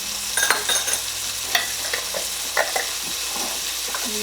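Garlic cooks in a pot for chicken turmeric soup, a steady close sizzle broken by scattered scrapes and knocks of a spoon stirring it, with no talking.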